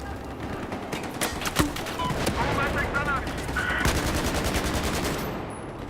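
Rapid automatic gunfire rattles in Battlefield 4 online multiplayer, dense close bursts of shots continuing almost without pause across the clip alongside other battlefield sounds.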